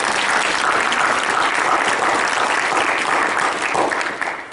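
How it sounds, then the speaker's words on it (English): Loud, dense applause from an audience at a fraternity Founder's Day gathering, steady clapping that holds strong before easing slightly near the end. "So let's give him a round of applause"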